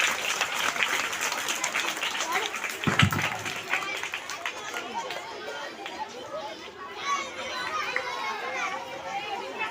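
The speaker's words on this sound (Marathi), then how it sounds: "जोरदार टाळ्या होऊ द्या." Children and an audience at a school event give loud applause for a young boy dressed as Gandhi after his speech. The clapping is sustained, with a thump near the start and children chattering and calling out throughout.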